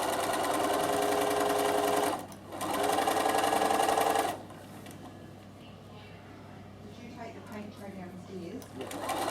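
Sewing machine top stitching with white thread, a steady close mechanical whir running about two seconds, a brief pause, then another two-second run before stopping into quieter handling sounds.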